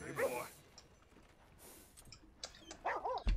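A dog in Red Dead Redemption 2 gives short whimpering yelps near the start and again near the end, fairly faint with quiet gaps between, with no talking over it.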